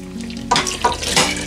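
A cornstarch mixture poured into a pot of boiling milk with cinnamon, giving a bubbling, sizzling hiss that swells in a few quick surges, close and fairly loud, with no talk.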